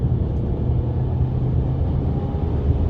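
Steady low engine rumble from a Ford Maverick pickup truck under light throttle, continuous and fairly loud with little change in pitch, without any talking.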